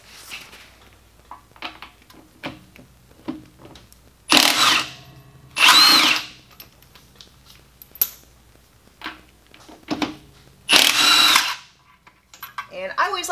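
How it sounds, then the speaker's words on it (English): An impact wrench set to reverse removes the lug nuts on a Toyota FJ Cruiser in several loud, short rattling bursts. Quieter handling noises fill the gaps between them. "make sure it's set to reverse and start pulling off the lug nuts"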